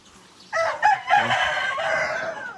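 Chickens in a backyard coop, with a rooster crowing or loud fowl calls rising and holding for about two seconds, close and fairly loud, after a quiet start.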